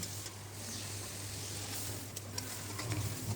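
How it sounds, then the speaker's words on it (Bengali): Onion and spice paste with green chilli, turmeric, chilli powder and cumin paste frying in a pan, giving a soft, steady sizzle that stays even and fairly faint throughout, with no voices. "এই মশলাটাকে ভালোভাবে কষিয়ে নিচ্ছি"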